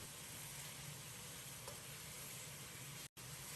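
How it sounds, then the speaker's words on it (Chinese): Scallion pieces, ginger slices, dried chili and star anise stir-fry with pork in a wok, giving a continuous dense sizzling hiss with a low hum beneath and a brief dropout near the end. "放入准备好的葱段、姜片、干辣椒、八角，继续把小料炒出香味"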